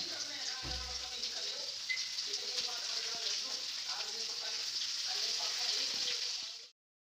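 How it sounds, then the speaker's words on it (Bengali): Ginger, garlic and onion sizzle and get stirred in hot oil, a steady bright hiss running throughout under a person talking, then cutting off abruptly. "এইবারে ওই তেলেই আদা রসুন আর পেঁয়াজ দিয়ে হালকা একটু নাড়াচাড়া করতে হবে।"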